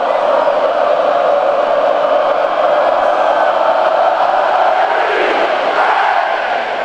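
Auburn football crowd roaring at Jordan-Hare Stadium as the eagle Aura flies over, a loud, dense, sustained wall of cheering and yelling that holds steady throughout.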